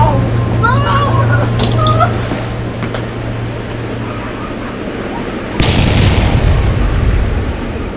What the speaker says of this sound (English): Oh no, it's gonna explode.